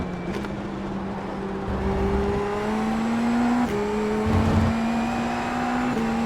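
Race car engine in the iRacing sim accelerating hard out of a corner, a steady rising drone climbing through gear changes with a brief lift around the shift points, loud and close with no talk.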